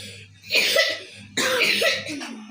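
Two harsh, close coughs, each a raspy burst with a wheezy tail.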